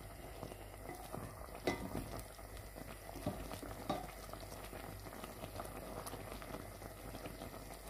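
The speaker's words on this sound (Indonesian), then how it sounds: "Kita akan masak hingga meletup-letup dan airnya mengental ya." Pumpkin kolak simmering in a pot as it thickens, a quiet, continuous low bubbling with occasional soft pops and stirring sounds, with no voices.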